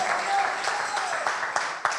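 Church congregation applauding during a Spanish-language sermon on the message to the church of Sardis; steady, moderately loud clapping throughout with a few sharper claps, no talking over it.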